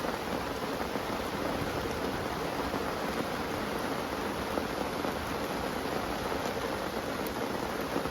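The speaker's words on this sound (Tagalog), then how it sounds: "it's raining" Steady, dense rain hisses continuously on surfaces, even and unbroken throughout with no voices.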